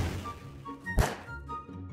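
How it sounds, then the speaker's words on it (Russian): A bomb detonates at night in Garry's Mod as a single dull, muffled thump, brief and moderately loud against a low, steady background hum. "Мы посмотрим, как они взрываются ночью."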